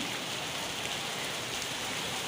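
Steady rain falls outdoors near a pond, a close, even hiss of drops on surfaces with no pauses and no voices.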